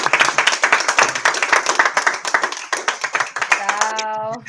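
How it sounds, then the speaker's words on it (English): Audience applause, a few people clapping in a loose, uneven rhythm that fades near the end, where a voice begins speaking. "Let's give a round of applause."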